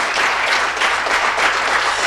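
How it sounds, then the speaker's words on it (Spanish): A church congregation at a Sunday service breaks into loud, sustained applause, a thick continuous roar of clapping hands that holds steady throughout. "Dele un aplauso al Espíritu Santo."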